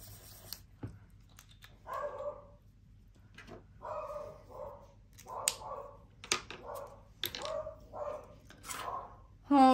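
A pet dog barks in short, sharp bursts off and on while someone talks over a hum of room noise.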